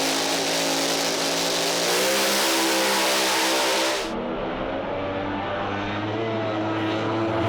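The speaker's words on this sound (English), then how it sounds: "You'll hear these guys bring the RPMs up as they bring it into stage." A drag racing car on the strip, its engine held at high revs during staging with a loud, steady roar, then a sharp change in pitch as it launches and pulls away.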